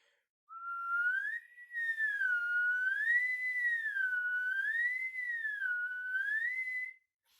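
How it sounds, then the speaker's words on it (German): A person whistles by mouth, a clear solo tone gliding smoothly up and down in repeated wavy sweeps for several seconds. "Ich pfeife Glissandi nach oben und wieder zurück."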